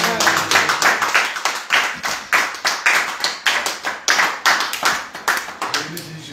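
A congregation at a Jesus-Revient missionary gathering in Maroua, northern Cameroon, claps to acclaim the Lord Jesus: loud, fast, slightly uneven hand claps in a steady rhythm, close and dense, with no talk over them.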